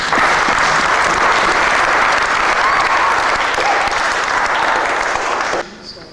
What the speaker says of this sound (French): Acclamez Jésus pour ce qu'il a.